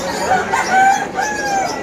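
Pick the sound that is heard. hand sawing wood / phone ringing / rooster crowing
rooster crowing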